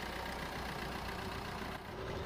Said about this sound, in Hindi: As you can see, the engine is working properly.